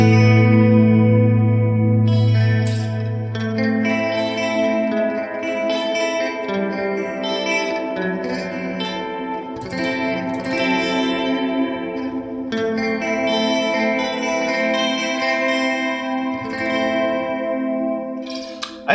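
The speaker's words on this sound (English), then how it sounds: "So I was giving a little more reverb and delay to get that" Guitar run through a Hotone effects preset with extra reverb and delay, first a sustained chord and then a stretch of chiming, echoing notes washing into each other, loud and played alone.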